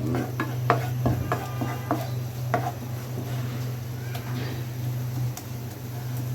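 Brain bhuna stirred in a pan, with several short scraping knocks close by early on, then softer rubbing strokes over a low steady hum.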